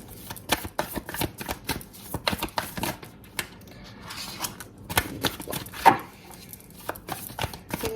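Tarot cards being shuffled in dense, rapid flurries of papery riffles and soft slaps, fairly close and steady for the whole stretch, with no talking over it.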